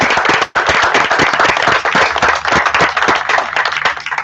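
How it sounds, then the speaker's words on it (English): Audience at a career and technical education completer ceremony breaks into loud applause, a dense, sustained clatter of many hands clapping close by for several seconds. "And you deserve a round of applause for that."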